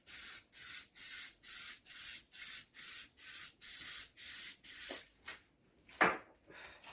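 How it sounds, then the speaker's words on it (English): A rapid series of about ten short bursts of Pam cooking spray onto a muffin tin in a steady rhythm, close up, followed by a few light clatters and taps. "I will just spray these quickly with some Pam spray."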